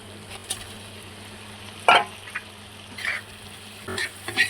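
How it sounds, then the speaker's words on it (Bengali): Fried hilsa fish pieces being stirred into oily fried spice masala in a pan, with a few brief scraping and clattering stirs standing out above a faint, steady background. "এখন এটা আস্তে আস্তে নাড়বো, নাড়তে নাড়তে এমনি ভেঙে যাবে, তখন ঝুরো ঝুরো হবে।"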